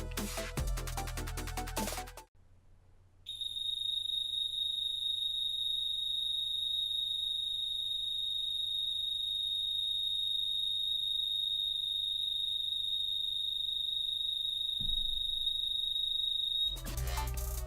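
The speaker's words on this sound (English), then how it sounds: "And this is what the Arlo Pro 2 siren sounds like." Built-in siren of an Arlo Pro 2 security camera, a piercing continuous high-pitched electronic tone held steady for about thirteen seconds after a short gap, with a low hum beneath it.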